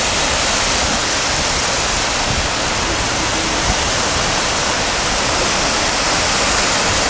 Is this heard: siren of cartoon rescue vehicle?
no